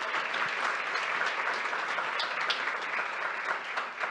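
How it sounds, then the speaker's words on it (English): An audience at a startup demo day bursts into dense, steady applause that fills the room, many hands clapping together at an even loudness from start to finish. "round of applause for Ashley"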